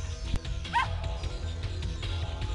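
A small dog barks and yips briefly in a video game over a low background hum, with a short whimpering whine in the middle.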